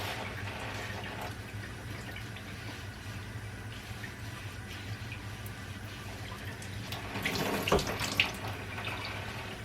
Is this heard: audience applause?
no